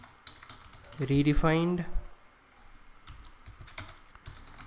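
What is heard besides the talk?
typing code on a computer keyboard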